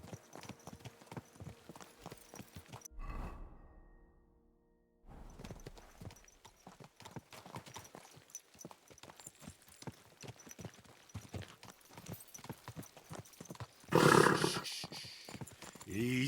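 Horse hooves clip-clop in a steady rhythm in a video game, the clopping running through most of the clip with a brief pause, and a loud whinny bursts out near the end.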